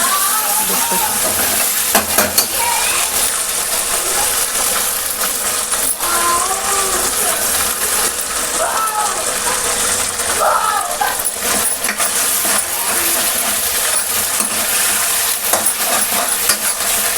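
Saag greens are tipped into masala frying on a chulha and stirred, giving a steady close sizzle with scraping stir strokes throughout, and a voice may talk over it at times.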